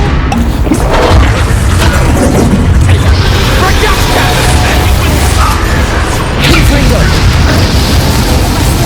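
A Confringo blasting spell explodes during a dragon fight in Hogwarts Legacy, heard as a loud, dense, continuous roar with crashing booms layered over the game's constant battle din.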